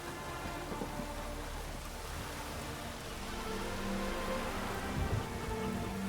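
Thunderstorm rain in The Witcher 3 fantasy role-playing game, a dense steady hiss of rainfall on the ground with a low rumble of thunder rolling in near the end, continuous and unbroken by talk.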